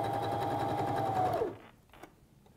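A sewing machine runs steadily as it stitches stretched elastic onto a waistband, a close, continuous motor whir that winds down and stops partway through, followed by quiet handling sounds.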